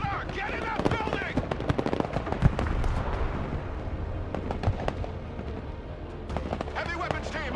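Gunfire and explosions in the Broken Arrow war video game, a dense barrage of sharp cracks and bursts, some close and loud, layered over a rumbling battlefield background.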